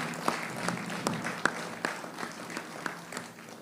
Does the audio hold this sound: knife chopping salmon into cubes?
no